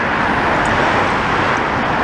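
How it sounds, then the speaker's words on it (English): Continuous road traffic noise on a city street with tram tracks, a loud, dense roar of passing vehicles that stays steady throughout, heard close by from a pedestrian's position. "I am aware of the traffic noise"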